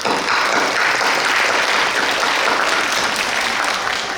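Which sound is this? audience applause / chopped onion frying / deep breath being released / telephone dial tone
audience applause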